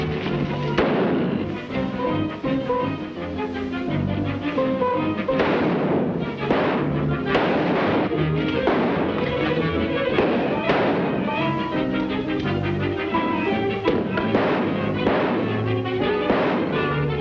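Gunshots fired at a lock in a 1941 comedy film scene, a dense barrage of loud repeated bangs and thuds over about seventeen seconds with no pause.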